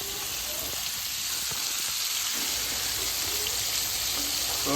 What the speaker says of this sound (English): So we're getting them real good and seared here.